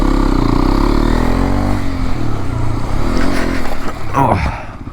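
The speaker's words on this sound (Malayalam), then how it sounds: "ഇന്ന് നമ്മുടെ കയ്യിൽ കിട്ടിയിരിക്കുന്നത് രണ്ടായിരത്തി ഇരുപത്തഞ്ച് മോഡൽ എക്സ്പൾസ് ടു ടെൻ ആണ്" A 2025 Hero Xpulse 210 motorcycle engine runs close by, holding a loud steady idle before rising into a brief rev with some scraping noise.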